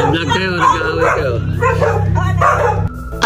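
A dog at a neighbouring house yips, barks and whimpers close by in short, excited bursts, mixed with people talking.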